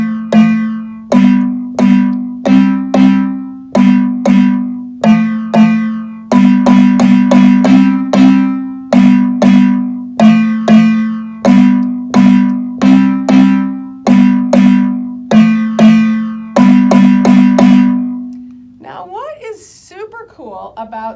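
High marimba-style instruments play the Shamwari chord break in third position, with repeated bright mallet strikes in a steady syncopated pattern, loud and close, and a brief voice near the end.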